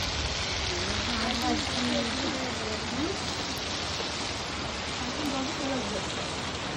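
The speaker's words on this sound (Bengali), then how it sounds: "কত বৃষ্টি পড়ছে মা" Heavy rain pouring outdoors at a home, a dense steady hiss of falling water throughout, with voices talking over it.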